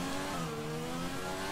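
Formula 1 car engine in the F1 2020 racing game at the Canada circuit, a steady high whine droning on alone at moderate level.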